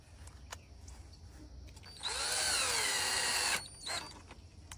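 A power drill drives screws to mount a solar motion security light bracket, one loud, steady, close whirring burst of about one and a half seconds that rises in pitch as it spins up, with quieter handling noises around it.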